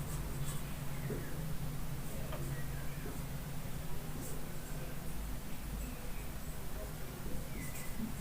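Marker or chalk writing on a board in a classroom during a Hindi-language English grammar lesson, faint scratchy strokes under a steady low hum and room noise, with no clear talk over it.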